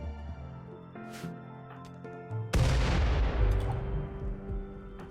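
Grenade detonating in RimWorld: a sudden loud boom about halfway through, sharp attack and a broad crackling decay, preceded by a few lighter shots and clicks over a steady background tone.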